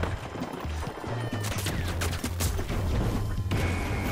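Rapid gunfire in The Finals, a fast stream of repeated shots over a continuous low mechanical hum, loud and close with some crackling impacts.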